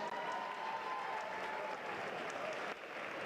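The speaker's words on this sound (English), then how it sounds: "Give him a big round of applause." Crowd applause fills a school gym at a boys' basketball event, steady dense clapping from the stands throughout with no pause.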